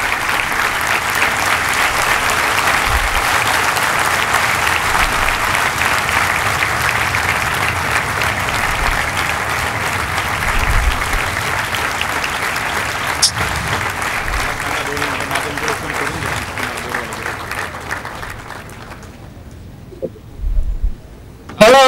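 Sustained applause from an audience at a student parliament event, steady and dense for most of the stretch before thinning out, with a few scattered claps and a voice at the end.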